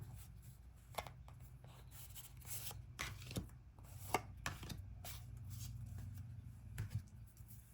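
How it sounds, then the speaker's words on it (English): Cards drawn from an oracle deck, producing soft, quiet shuffling and sliding rustles with scattered light taps and flicks, close up, no speech. "Let's take a couple of cards from this oracle deck as well."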